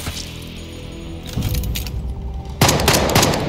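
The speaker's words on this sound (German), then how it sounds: "Ich denke, der erste Schuss ist der Sunny." Bursts of rapid gunfire in the video game Jagged Alliance 3 crackle loudly with heavy booms, growing more intense toward the end, with no talking.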